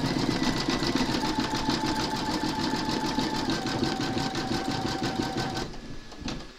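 A Brother embroidery machine satin-stitches Santa's beard with a loud, steady, fast mechanical whir and rapid needle chatter that holds throughout and then slows and stops near the end.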